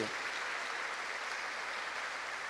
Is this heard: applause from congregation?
yes